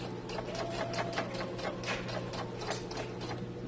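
A sewing machine stitches a pant hem in quick, even rhythmic clicks and whirring bursts, fairly quiet and close, with no talking.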